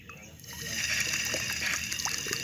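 Water runs from an opened tap in a steady trickling stream that swells slightly louder partway through, close by, with a faint voice murmuring beneath it.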